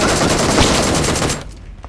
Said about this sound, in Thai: แล้วใครยิงสไนเปอร์อ่ะ